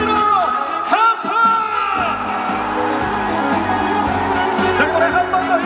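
Concert crowd at an outdoor trot music performance at the 38th Yeoju Ceramics Festival shouting and cheering loudly on request, a dense roar of whoops and yells over continuing music with a singer's voice.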